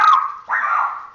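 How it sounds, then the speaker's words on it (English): A dog gives two sharp barks close by, the second following a brief gap, both loud and clear with no talking over them. "Diamond, what you barking at?"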